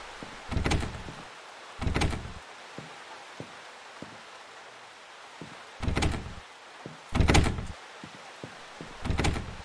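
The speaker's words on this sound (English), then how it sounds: "That was the door I just came from." Repeated door sounds in the horror game The Horrors Lost Tape demo, five loud heavy bangs spread irregularly over several seconds. Faint footstep-like taps fall between them against a soft hiss.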